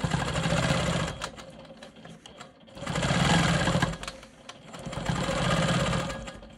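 A sewing machine quilts a star quilt block in bursts, whirring steadily and close for a few seconds, pausing briefly, then running again in three distinct stretches.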